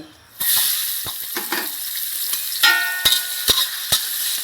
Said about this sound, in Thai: ผัดพริกแกงให้หอมก่อน